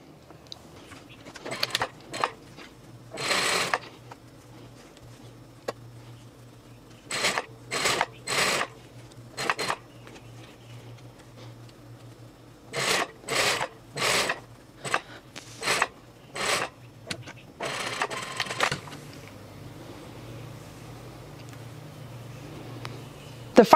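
A sewing machine stitching a shawl collar on a shirt, with back stitches at start and stop, heard as several short mechanical whirring runs separated by quiet pauses, fairly close.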